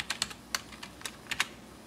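Quick, light keystrokes on a computer keyboard while code is entered, about a dozen soft irregular clicks in short bursts, close and quiet with no talk.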